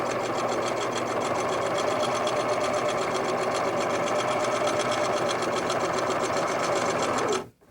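A sewing machine stitches a quilt border seam, running steadily with a fast, even mechanical whir and rattle, close and continuous until it stops abruptly at the end.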